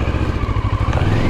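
A Moto Morini X-Cape 650 adventure motorcycle climbs a dirt trail hill, its engine a loud, steady, close throbbing drone with rhythmic low pulsing for the whole short stretch.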